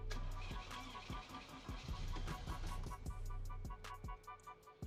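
A Toyota 4AGE rally car engine cranks with rapid rhythmic starter pulses, then catches into a loud, rough running note, close and alone with no voices.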